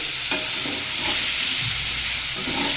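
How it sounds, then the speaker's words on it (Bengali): Pieces of elephant foot yam seasoned with salt and turmeric frying in hot oil, giving a dense, even, close sizzle with no pauses and no talking. "একবারে তেলে দিয়ে ভালো করে ভেজে তারপরে রান্না করব"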